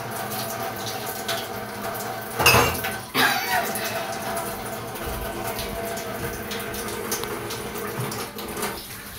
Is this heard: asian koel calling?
no